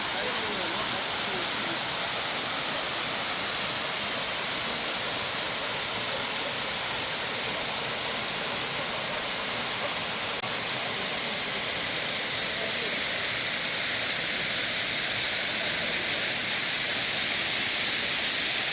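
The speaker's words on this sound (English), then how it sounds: "I'm finally here near the waterfall" Waterfall during a hill trip in Chikamagalur, a steady broadband rush of falling water that fills the whole clip at an even, fairly loud level with no clear breaks, sounding close by.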